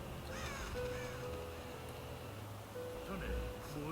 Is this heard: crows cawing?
yes